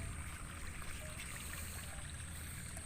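Irrigation water flows steadily through a channel near a durian plot beside rice paddies, a faint, continuous trickling wash alone for a few seconds.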